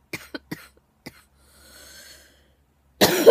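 A person coughing in a quiet room: several short, sharp coughs in quick succession, then a softer breath or rasp, and a sudden louder burst of noise close to the microphone at the end.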